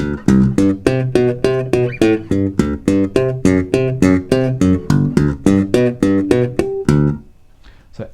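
A slap bass riff of punchy, evenly spaced notes in a steady quick rhythm, each one snapping sharply, before the line stops and rings off.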